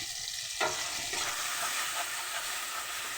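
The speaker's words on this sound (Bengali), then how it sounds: "একটু কষিয়ে নেব মশলাটাকে।" Turmeric and ground spices frying in a pan for prawn curry give a bright, dense sizzle that jumps louder at the start and then holds steady, with no talking.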